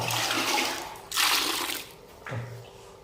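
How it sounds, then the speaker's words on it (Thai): Water poured in to mix tile adhesive cement, heard as close, rushing splashes in a steady pour, then a louder surge and a second shorter pour. "น้ำใส่ไป"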